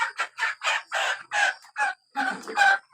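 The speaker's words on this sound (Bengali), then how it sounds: "এটাও কিন্তু মোরগ" A rooster lets out a close, loud run of clucks, about nine short bursts in an uneven rhythm with a brief pause before the last few.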